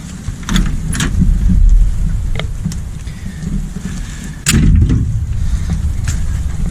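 A rat-rodded car nicknamed the bootlegger, fitted with a GM 6.2 diesel engine, gives off a steady low rumble close by. Several sharp knocks and clunks come through over it, and the rumble grows louder partway through.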